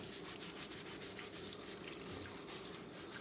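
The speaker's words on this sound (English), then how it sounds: "all we're going to do is just turn our water on and give them a good scrub" Tap water runs steadily into a sink while potatoes are scrubbed with a fresh sponge, a soft, even hiss with faint splashes and no voices.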